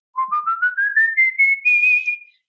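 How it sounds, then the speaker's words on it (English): A high-register whistle rises steadily in pitch through a series of short, clear pulses before holding one bright note, loud and close with no talking. "So the way you'd whistle in the higher register, like,"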